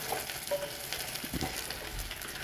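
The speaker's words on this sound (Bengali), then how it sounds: "তো আমরা এটাকে ভালো করে একটু ভেজে নিই" Soya chunks frying in hot oil for soya chilli, a steady close sizzle with faint crackles and no voices.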